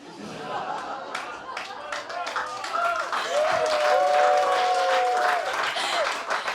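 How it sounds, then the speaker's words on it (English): Audience at a stand-up comedy show breaking into steady clapping and applause that builds and holds, with chatter and laughter mixed in and a voice talking over it. "Claps."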